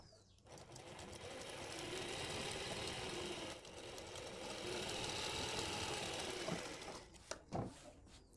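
A sewing machine runs steadily for several seconds, stitching along a buckram-stiffened kurti neckline, then stops, followed by a few clicks and fabric handling.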